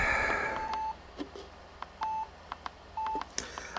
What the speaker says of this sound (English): I've got some kind of input going on here because it's making it beep.